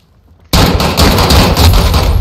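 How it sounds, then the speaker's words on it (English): Gunfire in Call of Duty: Modern Warfare cuts in suddenly after a brief hush. It becomes a loud, continuous burst of rapid automatic shots that crackles harshly at close range for the rest of the moment. "They're shooting at me."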